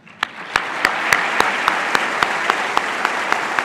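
Slow, evenly spaced claps ring out at an annual religious meeting, one sharp beat roughly every third of a second over a soft wash of crowd clapping and hall reverberation.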